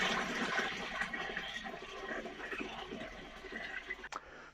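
Water gushes steadily into a beer fermenter on brew day, a soft continuous splashing pour heard up close at low level with a brief knock near the end.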